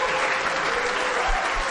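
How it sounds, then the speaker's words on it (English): Audience applause welcoming a guest to the stage at an LA tech event, a steady wash of many hands clapping at even loudness throughout, with no voices over it. "Big claps."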